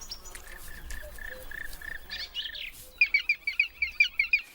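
Black woodpecker chicks calling from a nest hollowed into a tree in the mountains, a thin chorus of high chirps that becomes a loud, rhythmic series of about eight rapid calls near the end.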